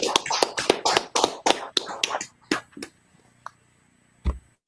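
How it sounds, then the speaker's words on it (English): Hands clap in a quick run of sharp, close claps at a class gathering. The claps thin out to a few scattered ones and then stop, with one last clap near the end. "Clap it up, Akim."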